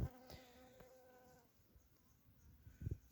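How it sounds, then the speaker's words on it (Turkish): A honeybee collecting pollen and nectar, a faint close buzzing hum of wings at low level, with a couple of brief louder rustles at the start and end. "bal arısının polen toplayışı ve bal toplayışı"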